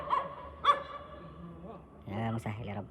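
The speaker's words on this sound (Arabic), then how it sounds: "خلت الشارع كله بيهوهو" A dog barks twice in sharp yips near the microphone, then after a pause lets out a longer pair of rough, drawn-out barks, with faint voices in the background.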